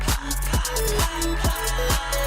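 A hyperpop track plays loud and dense with a distorted, glitchy texture and heavy beats landing in a quick regular rhythm.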